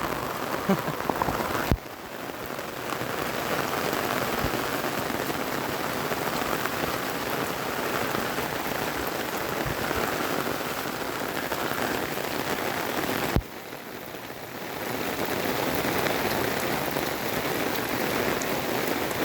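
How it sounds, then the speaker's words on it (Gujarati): Heavy rain pours down in a village near farm fields, a dense continuous roar of drops drumming on surfaces, with brief breaks in the sound. "ફૂલ વરસાદ ચાલુ ફૂલ"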